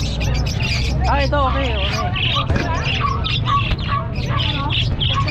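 Many caged birds squawk and chirp densely at a bird seller's stall, a continuous close chatter of calls with people talking over it.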